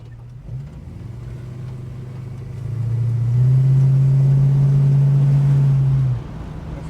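A Holden HK car engine runs steadily at close range, its low droning hum swelling louder around the middle as it revs slightly, then dropping back to a quieter idle.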